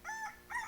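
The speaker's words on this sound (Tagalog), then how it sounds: "may manok po yung cellphone niya" Short fragment of a rooster's crow played from a cellphone, two bright tonal bursts close by with a brief dip between them, nothing else audible.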